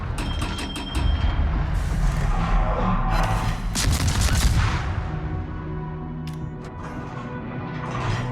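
Naval gunfire from the French destroyer Le Fantasque in a naval combat video game: a series of loud booming shots and crashing impacts with mechanical clatter, fading into rumbling aftermath.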